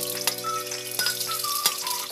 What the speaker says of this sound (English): Add chopped garlic and onion to the wok. Saute it well until it turns brown.